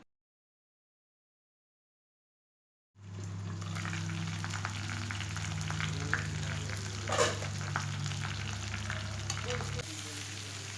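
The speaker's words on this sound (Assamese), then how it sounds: "আলুখিনি ভালদৰে সিজিবৰ কাৰণে 5 মিনিটমানৰ কাৰণে ঢাকনিখন মাৰি দিছোঁ।" Local chicken curry with potatoes cooking under a lid in a pot, giving a steady low simmering, bubbling sizzle after a silent opening, with a brief louder burst partway through and no talking.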